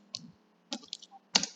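A few sparse, close keystrokes on a computer keyboard, with short pauses between the taps.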